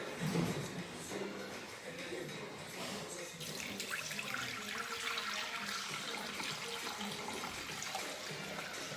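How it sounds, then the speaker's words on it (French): Water poured into a Thermomix mixing bowl, 700 g of it, for a crème caramel, a steady close splashing pour running throughout with no talk. "Ensuite, il faut mettre 700 g d'eau dans le bol."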